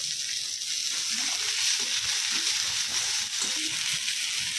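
Tomato and green chili frying with ginger-garlic paste in a pan give off a loud, even, continuous sizzle with faint bubbling underneath and no break in the hiss.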